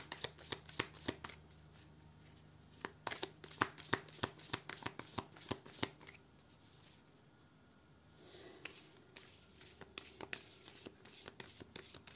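Tarot cards shuffled for a French cartomancy reading, repeated crisp riffles and slaps in quick bursts, close and fairly quiet, with a brief lull partway before the shuffling resumes.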